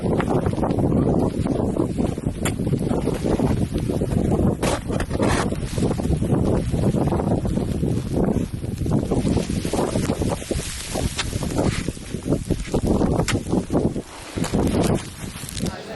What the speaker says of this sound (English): getting spin drifted pretty hard here. Up on Mount Fay.